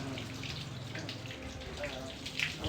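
Tap water runs steadily as a rescued puppy is rinsed, a continuous splashing wash with small drips, close by and fairly loud throughout.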